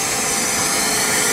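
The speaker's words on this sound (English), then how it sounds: "there's a fitting that goes on the hose that goes to this blue machine here" A blue cellulose insulation blowing machine pushes minced paper fiber through a hose fitted into the brick wall of a house from outside, giving a steady, loud broadband roar with no pauses.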